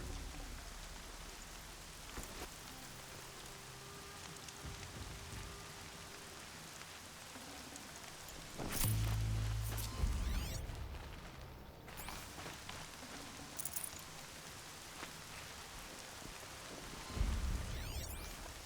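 Steady rain in the video game Horizon Zero Dawn patters softly throughout, with a few heavier rumbling bursts and scattered knocks rising briefly above the constant downpour.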